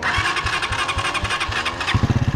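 A motorcycle engine runs up close in Mexico, rhythmic low thumping pulses with a rising throttle blip toward the end, loud and alone without speech.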